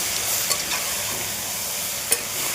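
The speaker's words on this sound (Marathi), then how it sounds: "शेंगदाणे, आता हे चांगलं परतून घ्यायचं." Peanuts and soybeans stirred and fried in a pan, a steady hissing sizzle with a couple of sharp scraping clicks from stirring, close and fairly loud, no voices.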